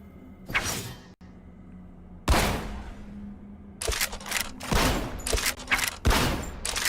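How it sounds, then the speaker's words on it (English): Shotgun blasts in the Hellsweeper VR game, several loud, sharp bursts spaced apart, the later ones coming in quicker succession with brief crackling tails and whooshing between them. "I've got loads of those extra pellets on the shotguns"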